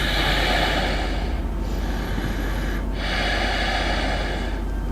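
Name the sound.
voice imitating heavy breathing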